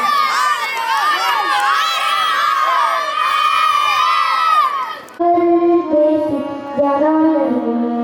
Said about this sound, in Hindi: जोरदार तालियां बजा दीजिए हमें